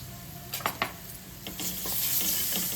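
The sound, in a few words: ginger garlic paste frying in oil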